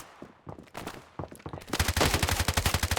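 Gunfire in the video game Standoff 2: scattered single shots, then a loud, rapid automatic burst of rhythmic shots close by, with no talk over it.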